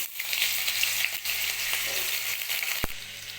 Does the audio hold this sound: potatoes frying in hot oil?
yes